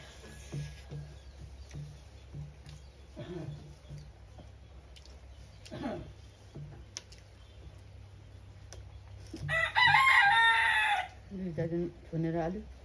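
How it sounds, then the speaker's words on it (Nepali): A Bhimseni rooster crows near a rural home, with a loud drawn-out crow standing out over scattered clucking, soft ambient noise and brief voices. "भीमसेनी भाले कराउँदैछ।"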